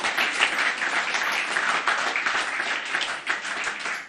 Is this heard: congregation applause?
yes